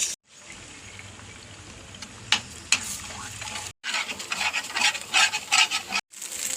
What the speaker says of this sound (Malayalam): അപ്പോൾ എണ്ണ ചൂടായി, മുട്ട പൊരിക്കണം.